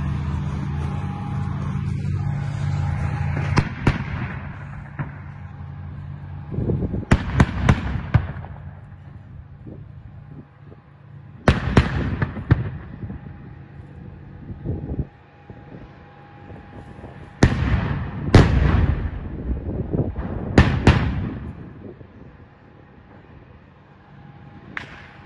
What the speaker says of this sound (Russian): танк выходит, стреляет и отходит назад